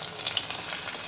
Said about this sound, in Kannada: ಸ್ವಲ್ಪ ಫ್ರೈ ಮಾಡ್ಕೋತೀನಿ